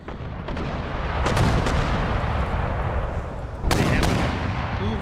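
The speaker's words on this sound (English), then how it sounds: "they have an awful lot of mortars." Mortar and artillery fire rumble through a battle in Empire: Total War, a thick, steady roar of distant guns punctuated by a couple of sharper, louder booms, with no voices.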